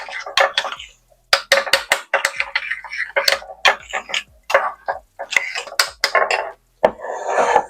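Dry coffee cake ingredients with baking soda being stirred in a bowl, a series of scraping, rasping strokes in an uneven rhythm with short pauses between bursts, close and fairly loud.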